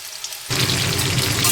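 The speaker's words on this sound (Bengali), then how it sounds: "এটা করে ভাজতে হবে পকোড়াগুলো" Chicken pakoras for chilli chicken hit hot oil and break into a loud, dense deep-frying crackle and hiss that begins suddenly and keeps going steadily, with no voices.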